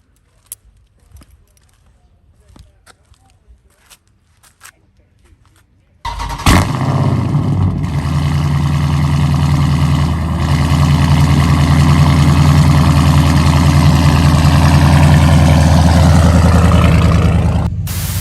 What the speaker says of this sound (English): let me hit y'all with this cold start